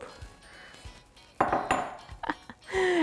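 Cooked broccoli being stirred into cashew chicken in an Instant Pot, with scattered scraping clatters and clinks of a utensil against the metal pot, an irregular series of close knocks and taps, no talking.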